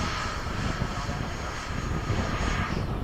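A Freewing 90mm F-22 RC model jet makes a downwind pass at sunset, a steady, loud broadband roar of its ducted fan that holds evenly for about three seconds with no break.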